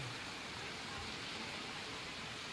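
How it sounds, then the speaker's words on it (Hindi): Heavy rain pours down beside a shop, a dense, steady hiss of falling water that fills the whole clip without letup. "अब बारिश बहुत ज़्यादा तेज़ी से"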